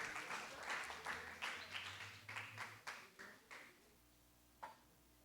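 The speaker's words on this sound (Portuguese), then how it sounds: "Dá um aplauso para Pedro, Tiago e João no barquinho." Church congregation applause, a few seconds of clapping that swells and then thins into separate fading bursts, with one last stray clap near the end, fairly faint and distant.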